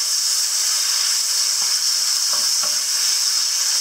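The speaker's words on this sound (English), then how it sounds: "Pop your beef in, start whizzing it around." Steady, loud sizzling of beef being stir-fried in a hot pan oiled with vegetable oil for Cambodian loc lac, a constant bright hiss with faint scraping as the meat is stirred.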